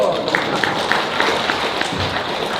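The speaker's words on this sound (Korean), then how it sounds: "박수 보내주세요." A corporate seminar audience gives a dense, steady round of applause that fills the room at a moderate level. A few faint voices surface within the clapping.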